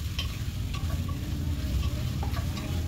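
Chicken frying with garlic in a pan makes a loud, dense sizzle with constant stirring and scraping, close by and with no voices.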